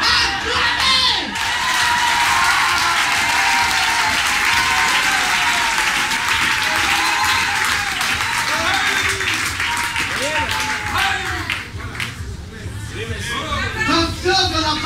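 A church crowd applauding a preacher during a sermon on the Lord's second coming, with loud sustained clapping mixed with cheers and crowd chatter throughout.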